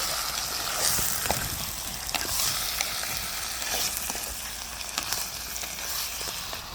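Liver frying with softened onions and green chilies in a pan, stirred now and then: a steady, close hiss and crackle with occasional spoon knocks, and no voices.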